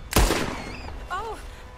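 A single sharp gunshot in Red Dead Redemption 2 cracks loudly up close, then rings out in a fading echo, followed by a brief voice in the game.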